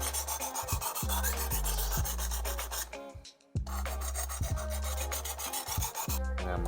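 Knife sharpened on a Worksharp sharpener set to 20 degrees, giving a steady loud grinding rasp that runs on, breaks off briefly in the middle, then resumes with pulsing strokes.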